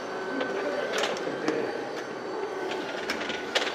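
A Lift Car PTR patient stair lift climbs the stairs of a Doosan Alpheim apartment in Namyangju, its motor giving a steady, strained mechanical groan with faint rhythmic clicks and knocks throughout.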